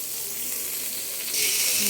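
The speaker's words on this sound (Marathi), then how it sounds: "आता आपला तवा जो आहे तो छान असा गरम झालेला आहे. त्याच्यात आपण बटर टाकणार आहोत" Butter sizzling on a hot tava for masala pav, a steady close crackling hiss that swells louder toward the end.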